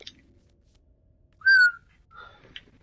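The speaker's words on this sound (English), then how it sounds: "stop with your whistling, fool." Person whistling a short, bright two-note phrase, one clear rising tone followed by a softer, briefer one, set against near silence.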